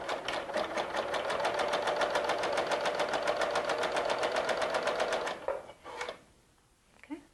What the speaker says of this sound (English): I'm just going to stitch right off the end for this corner